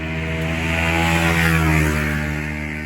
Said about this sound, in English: the engine does have a nice sound, and there is a nice exhaust note.